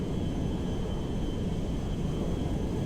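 Air Force One jet taking off in GTA 5, a steady broad engine roar, loud and unchanging, with a faint high whine above it and no voices.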